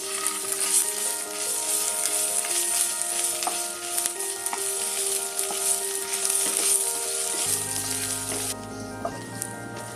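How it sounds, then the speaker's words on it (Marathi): Onion and ginger-garlic paste sauté in hot oil with curry leaves, a steady close crackling sizzle broken by the scrape of stirring, then a sudden drop in level near the end. "दोन मिनिटं कांदा आणि आलं लसूण पेस्ट परतून झाली आहे"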